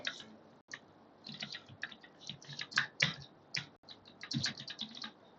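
Computer keys tapped in quick, uneven bursts, close and crisp, with brief pauses between runs of clicks and no talking.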